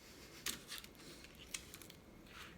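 Scissors snip through a toothpick top during a Dollar Tree craft project, giving a few faint, close, brief crisp cuts over a quiet background.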